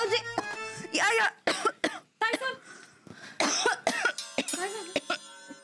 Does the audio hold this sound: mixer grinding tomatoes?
no